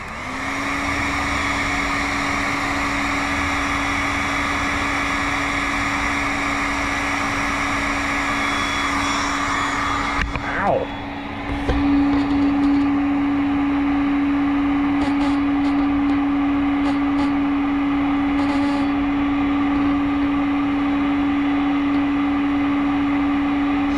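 Hot-air heat gun blowing steadily on automotive wiring to melt solder on a joint, from a 2015-19 vehicle with a harsh-shifting ABS/traction fault; a loud continuous whooshing drone with a steady hum, briefly shifting in pitch midway.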